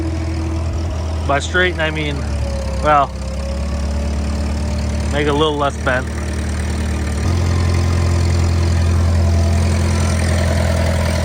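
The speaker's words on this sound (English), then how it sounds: "Yeah, we got the tractor out." A tractor engine idles steadily with a low, constant rumble through the whole stretch, growing slightly louder near the end while someone talks over it.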